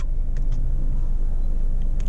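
A car drives itself, braking and accelerating on its own, heard from inside as a steady moderate cabin rumble of road and engine noise with a few faint clicks.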